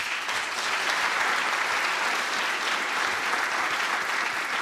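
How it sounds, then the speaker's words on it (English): Full, even applause fills the room at an annual meeting and legacy celebration as the board is honoured, a dense continuous clapping from a sizeable crowd. "let's give our board a round of applause"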